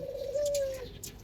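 An Australian dove gives a single soft, drawn-out coo, steady in pitch and close by, over faint background hiss.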